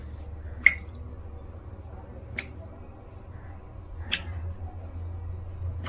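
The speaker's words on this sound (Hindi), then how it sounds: "Is it a tap leaking?" Water dripping from a leaking tap, three faint, sharp drops spaced about two seconds apart over a low background hum.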